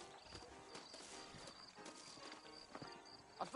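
Saddled horses clip-clopping in the Red Dead Redemption video game, a quiet, steady patter of hooves under ambient game noise, with a brief louder burst near the end.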